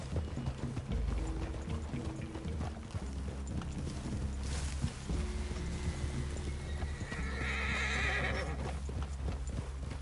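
Horses in the open-world Western game Red Dead Redemption 2 clop steadily along with repeated hooves, and a neigh or whinny rises near the middle, over a continuous low background rumble.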